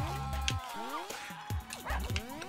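Several dogs bark and yip in the Russian Subway Dogs video game, sharp repeated bow-wows with whimpers between them, close and busy over game effects.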